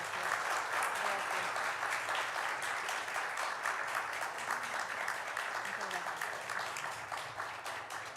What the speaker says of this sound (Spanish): quisiera pedirles por favor un aplauso para nuestra invitada